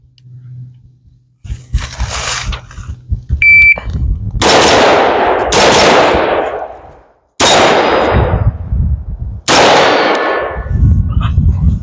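Rapid gunshots ring off steel targets in a timed shooting run, sharp cracks paired with metallic clangs, fired in four quick bursts with short pauses between them, loud and close.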